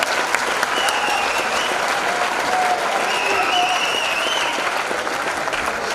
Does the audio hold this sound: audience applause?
yes